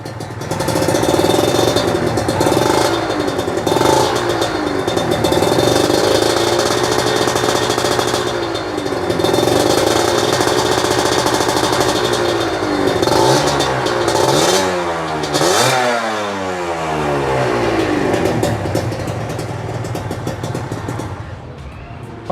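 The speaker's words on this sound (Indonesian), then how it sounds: "langsung aja bakalan gue kasih dengar ke kalian nih suara knalpotnya kayak apa" Kawasaki Ninja ZX150RR with an aftermarket racing exhaust, warmed up, idles with a loud crackling rasp, then is given light throttle blips and short revs that rise and fall, close to the microphone for over twenty seconds with no talking.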